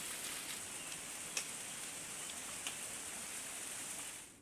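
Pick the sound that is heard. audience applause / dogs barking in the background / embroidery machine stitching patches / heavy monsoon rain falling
heavy monsoon rain falling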